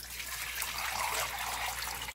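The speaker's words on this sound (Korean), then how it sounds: "물을 부어줄게요." Water pours into a pot while Korean clear pollock fish soup is being made, giving a brief, steady, quiet trickle with no talking.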